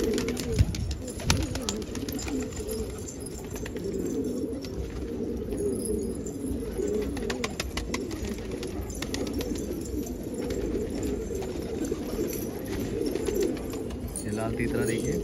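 A flock of pigeons on a rooftop coos continuously in overlapping low, throaty calls, steady throughout with constant ambient noise.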